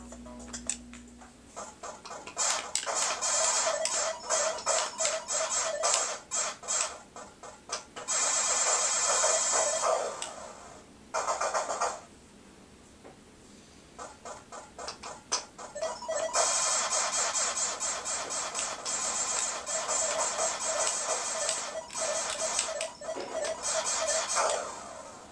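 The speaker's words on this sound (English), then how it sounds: "Let's look at one of the Atari 5200 games. And we have Centipede," Centipede played on an Atari 5200, a continuous buzzy stream of rapid electronic firing and ticking game effects, loud and steady with a brief drop-out midway, no talking.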